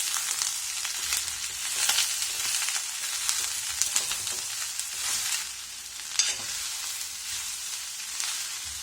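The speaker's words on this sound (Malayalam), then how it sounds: "നന്നായിട്ട് ഇളക്കി കൊടുക്കാം." Chopped onions with turmeric sizzle in a pan while being stirred, a steady frying hiss broken by soft scraping strokes and a sharper clink near the end.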